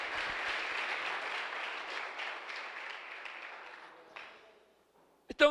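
A church congregation at a Wednesday evening service applauds steadily, the clapping thinning and fading out after a few seconds, followed by a short pause and a brief burst of voice at the end.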